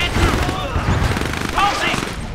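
Dense gunfire and rocket blasts from the Command and Conquer video game on Xbox rattle continuously and loudly, mixed with voices talking over the battle.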